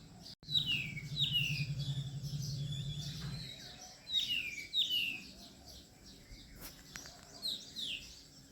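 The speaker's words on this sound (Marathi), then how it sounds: "पक्ष्यांचा आवाज" Village birds at morning, a series of bright chirps and short whistled calls repeating every second or so, fairly close against a quiet background, with a low hum in the opening seconds.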